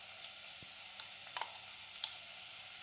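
Dry curry mix for a quick peanut curry sizzles faintly in a pan, with a quiet hiss and a few light taps and scrapes, close but soft, with no talking.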